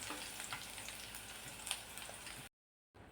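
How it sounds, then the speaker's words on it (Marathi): Garlic frying in oil crackles and sizzles steadily up close for a couple of seconds, then cuts to brief silence before the sizzle resumes faintly. "हा लसूण आपल्याला सोनेरी रंग येईपर्यंत तळून घ्यायचा आहे मस्त तेलामध्ये"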